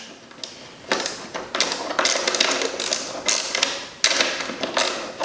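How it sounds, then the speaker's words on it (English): A 10mm ratchet wrench clicks in bursts while backing out the mirror bolts on a 2020 Yamaha R1 motorcycle, close and fairly loud with short creaking pawl runs and brief pauses between strokes. "You got 2 10mm bolts right there. You got a 10mm ratchet wrench."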